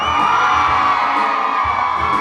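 A large concert crowd at The Promenade cheering and whooping loudly, sustained roar with shouts rising over it, no talking.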